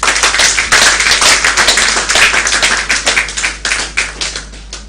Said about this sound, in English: Applaud Group 1.